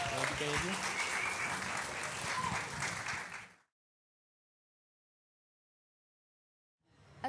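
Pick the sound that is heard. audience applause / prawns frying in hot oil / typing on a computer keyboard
audience applause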